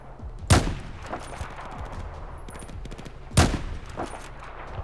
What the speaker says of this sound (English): So there's someone over there, because they're firing over there.